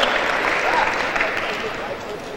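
An audience at a Georgia legislative gathering claps briefly and loudly for a senator being invited to the podium, a dense burst of hands that fades slightly toward the end.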